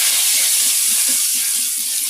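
Hot oil sizzling in a pan on a home stove, heated for tempering with mustard seeds: a steady, close, bright hiss with faint clinks underneath, no talking.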